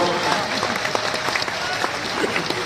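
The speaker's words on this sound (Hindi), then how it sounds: "विश्वास हो गया हो तो मेरे सम्मान में भी ढंग से ताली बजाओ।" Applause from an audience at a public event in India, continuous crowd clapping at an even level with a bit of background murmur throughout.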